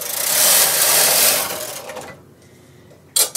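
A knitting machine carriage is pushed across a row, giving a loud, continuous mechanical whirring rush that fades after about two seconds. A quiet pause follows, then a sharp clack.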